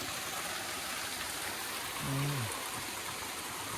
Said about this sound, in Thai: ตรงนี้ติดลำธาร